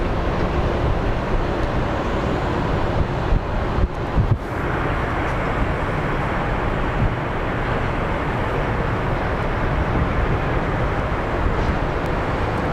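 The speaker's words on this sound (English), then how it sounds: "So we have United 1269 on the end of the runway, getting ready to depart." A United airliner at the end of a runway at Phoenix Sky Harbor roars steadily with broad, loud jet engine noise, buffeted by wind on the microphone, with no talking.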